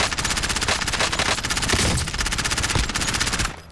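Submachine gun fire in Call of Duty: Warzone, a loud sustained rapid-fire stream of shots that runs almost continuously for over three seconds before cutting off abruptly.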